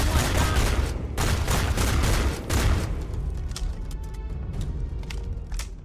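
Hip-fire gunfire in the Starfield video game: a rapid burst of loud, close shots in a quick rhythm for about three seconds, then quieter, sparser reports and a fading tail.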